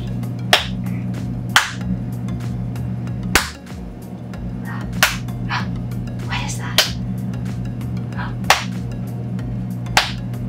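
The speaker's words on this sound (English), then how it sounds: "Do a little clap for her." Hands clap for a young girl at her cochlear implant activation, single sharp claps spaced a second or two apart over a steady background hum.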